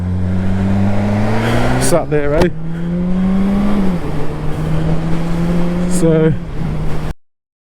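A motorbike engine runs steadily close by, its tone rising and falling slightly, with a couple of brief sharp bursts, while someone talks over it before it cuts off.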